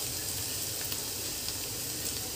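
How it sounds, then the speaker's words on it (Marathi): Green chilies and onions frying and being stirred in a pan for kanda poha, an even, continuous close sizzle with faint scrapes throughout and no speech. "थोडीशी मिरची परतली की कांद्यामध्ये अशी हलवून घ्या"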